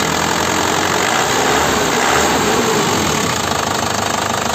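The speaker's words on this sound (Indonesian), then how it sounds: "Oke, ini mesin sudah kita nyalakan." A 2008 car engine idling after being started, a loud, steady close-up rumble with a faint ticking knock and no talking.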